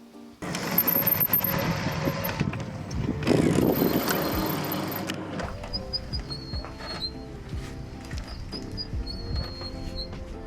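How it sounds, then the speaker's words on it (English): Squealing Magura MT5 hydraulic disc brakes on an Urban Arrow cargo bike in a workshop, with high thin squeaks and scraping over rolling mechanical noise, a louder burst early then softer repeated squeals. "We are back in the workshop and we're having a few problems with squeaky brakes."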